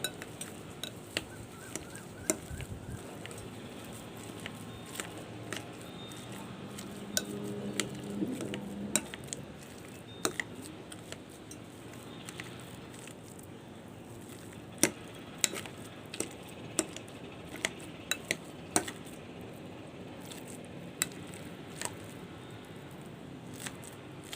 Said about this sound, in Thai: ตอนนี้มาบดมันฝรั่งนะคะ รวมกับแครอทนะคะ